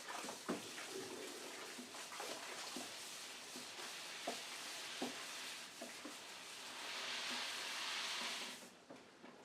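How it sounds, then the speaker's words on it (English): Water is stirred and added to a thick oatmeal whiskey mash, giving a soft continuous wash of liquid with scattered knocks and scrapes and a louder rushing surge toward the end. "I think I'm going to have to put some more water in there because it's getting thick again."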